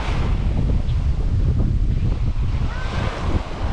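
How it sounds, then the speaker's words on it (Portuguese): Ocean waves breaking on a beach, a loud continuous rush of surf with wind buffeting the microphone and no talking. "Não, agora vem, ó, onda."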